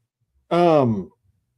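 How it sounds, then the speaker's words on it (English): A single long, loud yawn from a podcast host during a live show, drawn out for about half a second and fading into a sigh, close to the microphone with no other talk. "Excuse me one second while I yawn, because I always yawn, apparently, especially during live shows."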